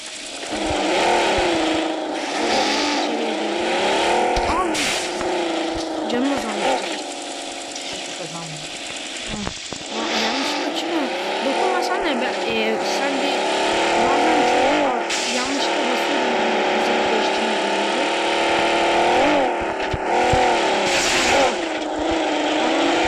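A car in the video game PUBG Mobile drives with a loud, steady engine drone that rises and falls in pitch as it accelerates, running continuously under a voice talking throughout.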